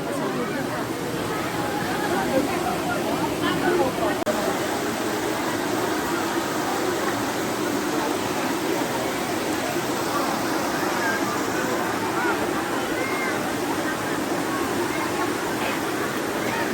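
Jumog waterfall in Karanganyar, Central Java, roars steadily and loudly the whole way through, a constant rush of falling water with faint voices of visitors mixed into the noise.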